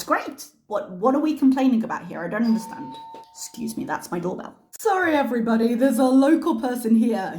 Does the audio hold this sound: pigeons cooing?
no